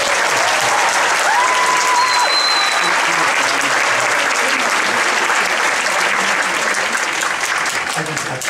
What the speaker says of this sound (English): How about a round of applause for